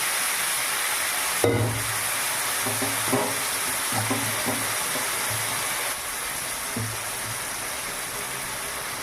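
Duck meat coated in garlic paste, ginger paste, chopped tomato, mustard oil and spices fries in a wok with a steady, loud sizzle and hiss, broken by occasional scraping stirs.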